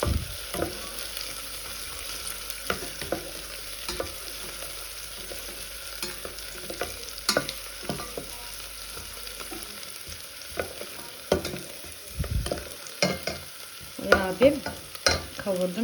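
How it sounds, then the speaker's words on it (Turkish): Onions sizzle and crackle in vegetable oil in a pan, a steady frying hiss with scattered pops and occasional stirring scrapes, no talking. "Bunu sıvı yağ ile birlikte tavada güzelce öldürüyorum."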